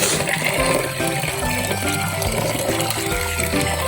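Water gushes steadily from a spring pipe high on a mountainside, a close, continuous splashing flow with no voices over it.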